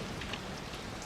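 Steady rain falling outside in a film scene, a constant soft hiss of drops hitting surfaces, even and unbroken at a low level.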